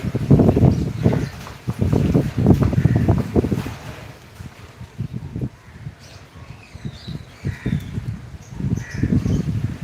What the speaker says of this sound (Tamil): நல்ல ஒரு காற்றடிச்சிட்ருக்கு